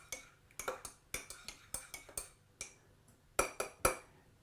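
A metal spoon clinks against the inside of a mug while stirring tea, about a dozen light, fairly regular taps, close and clear.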